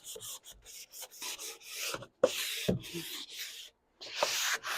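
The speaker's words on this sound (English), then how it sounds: "I'm just giving it a gentle sanding." Steady hand sanding on wooden furniture, a dry rasping rub in repeated strokes with brief pauses between passes, close up.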